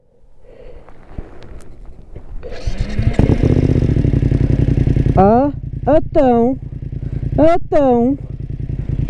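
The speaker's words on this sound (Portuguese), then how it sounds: "uma moto com 2 meses a custar a pegar" A two-month-old motorcycle idles roughly and struggles to catch, its engine chugging loudly and close with uneven surges, while someone talks over it in short bursts.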